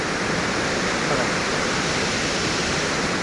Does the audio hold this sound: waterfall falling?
yes